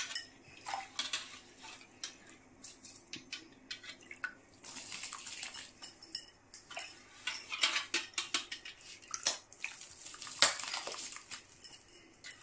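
Washed rice goes into salted water in a cooking pot, giving faint wet pattering and clinks of a utensil against the metal in uneven bursts, with no voices.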